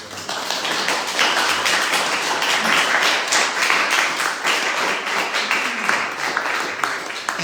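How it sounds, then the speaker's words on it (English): Loud, sustained applause from a poetry reading audience, dense and continuous clapping throughout with no voices standing out. "I really appreciate the applause"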